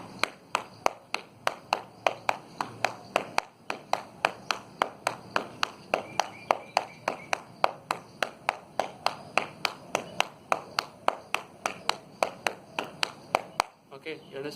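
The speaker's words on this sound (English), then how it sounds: "Now next we will do clap on your knee." Hands clap on knees in a brisk, steady rhythm of several dozen sharp slaps during a seated chair workout at home, close to the mic, ending with a brief shuffle.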